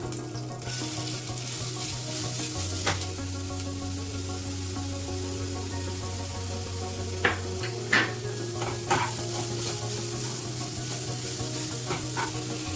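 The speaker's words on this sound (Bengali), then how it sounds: "এরপরে আমি এর মধ্যে অ্যাড করব গ্রেটেড পেঁপেটা।" Grated papaya sizzles steadily in a hot pan while a spoon stirs it, with occasional sharp scrapes and clinks against the pan over a low background hum.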